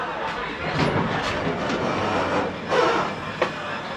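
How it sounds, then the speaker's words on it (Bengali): The Kanchankanya Express passenger train rolls along a track between two parked goods trains, with a steady rumble and periodic wheel clacks heard from nearby, a few sharper knocks standing out. "ট্রেনটা যাচ্ছে দুটো মালগাড়ির মাঝখান দিয়ে"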